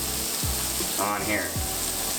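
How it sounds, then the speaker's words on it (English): Four smash burgers sizzling in a hot pan for mac and cheese smash burgers, a steady loud frying hiss with a few clinks and a brief word spoken over it. "Now you wanna make sure you hear that sound. It's starting to sizzle"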